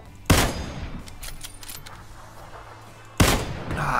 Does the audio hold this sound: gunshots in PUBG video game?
yes